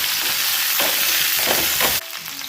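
Cumin seeds sizzle steadily in hot oil while a mango chutney is made, a loud, dense frying hiss that runs unbroken and dips slightly in level near the end.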